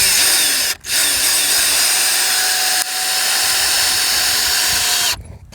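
A cordless Ryobi drill drives screws into a wooden fence post, its loud steady whine running almost continuously with one brief dip, a pause midway and a quick stop at the end.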